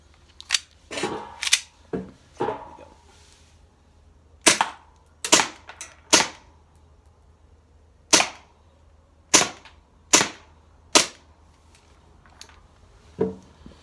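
Armorer Works 1911 airsoft pistol fired at cardboard boxes, a string of sharp, close single shots with a crisp snap, spaced irregularly, some quick pairs, then steady evenly spaced shots, with no talk.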